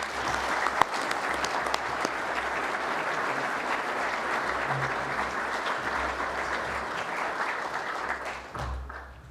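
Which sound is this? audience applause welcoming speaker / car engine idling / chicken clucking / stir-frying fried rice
audience applause welcoming speaker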